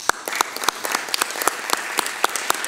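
Applause fills a municipal council session in Miraflores, a room of hands clapping at a brisk, even pace with sharp individual claps standing out close by. No one speaks over it.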